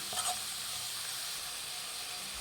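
Capsicum fries in a pan as a steady hiss-like sizzle, fairly quiet and continuous, with a faint scrape near the start and no talking.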